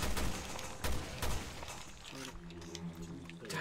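Loud bursts of gunfire aimed at monsters in the video game Resident Evil Revelations 2, several sharp shots in the first half-second and around 0.9 and 1.3 seconds, then fading into quieter game sounds with a voice.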